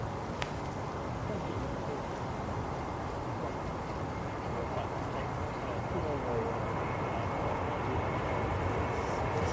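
Ryanair Boeing 737 jet airliner at Manchester Airport: a faint, distant, steady broadband roar holds evenly throughout with no clear peak.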